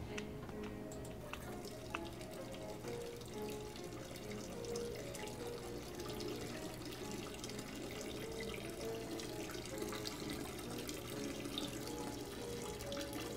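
A character urinates in a bathroom in the horror game Fears To Fathom: Ironbark Lookout, a steady, continuous trickle of liquid splashing for about thirteen seconds over a low, constant background hum, with no talking.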